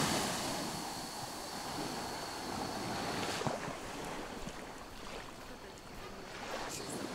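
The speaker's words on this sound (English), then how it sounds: "Look at these little sneaker waves, look at this." Small ocean waves wash onto a beach on a Thai island, a steady broadband rush of surf mixed with gusting wind noise on the microphone, moderately loud and continuous with no talk.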